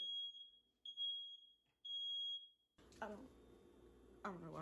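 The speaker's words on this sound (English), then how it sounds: "I don't know why the fire alarm is going off right now" A fire alarm sounds in a home with repeated high, piercing beeps in short bursts. A voice then talks while the alarm keeps sounding underneath.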